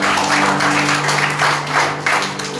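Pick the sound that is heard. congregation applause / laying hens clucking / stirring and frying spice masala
congregation applause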